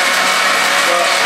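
A covered blender whirs continuously at high speed, loud and close, as it purées Caribbean jerk seasoning, with no pauses or voices.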